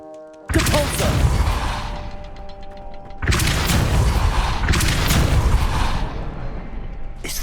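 A Depulso force spell cast in Hogwarts Legacy hits with loud booming bursts, one at about half a second and another near three seconds, followed by a sustained crashing rumble.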